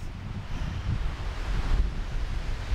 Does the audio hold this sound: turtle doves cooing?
no